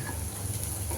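Onions frying in oil left over from frying fish, a steady, close, even sizzle with soft crackle and no voices.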